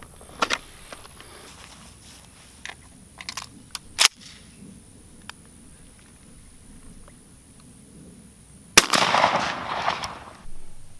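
A shotgun firing Remington Express XLR 1 1/8 ounce #4 shot shells outdoors at a cardboard target, giving a sharp crack near four seconds and a louder report near the end, followed by a rustling tail, with quiet ambience between.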